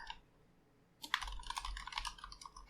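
Keys clatter on a computer keyboard as a password is typed and retyped, a quick run of close, crisp clicks after a brief quiet start.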